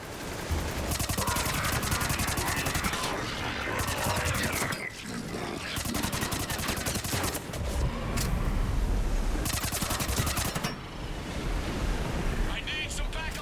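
Gunfire rattles in Mass Effect Legendary Edition, bursts of rapid shots in dense volleys over a rushing wind-like roar, with voices talking in between.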